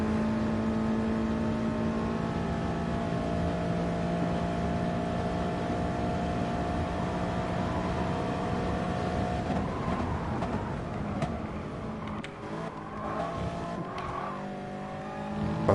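Toyota GT86 race cars lapping Bathurst in GT Sport, with several engine notes holding steady tones before shifting and overlapping as cars pass, plus brief tire squeals and revving bursts later on.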